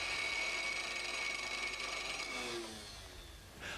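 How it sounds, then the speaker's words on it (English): Automotive starter motor spinning freely on a test bench during a no-load test: a steady high electric whine held for a few seconds, then winding down as it stops, close and loud with no talk. "A no-load test is initially performed simply to ensure that the unit operates normally."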